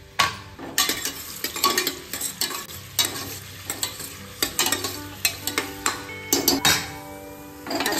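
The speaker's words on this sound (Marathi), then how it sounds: "हे मी 2 मीडियम साईजचे कांदे घेतले आहेत, ते आपण यात घालू आणि याला असं थोडंसं गोल्डन होईपर्यंत चांगलं परतून घेऊया." Chopped onions frying in oil in a pan, sizzling steadily while a spoon scrapes and stirs them in quick, irregular strokes, close and fairly loud, with no voices.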